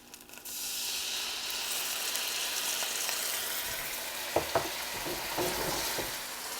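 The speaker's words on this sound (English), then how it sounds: "add about 2 to 3 tablespoons of water, but be careful because it will sizzle" Steady loud sizzling and hissing as water splashes into a hot pan of pork dumplings, with a few light clinks near the end.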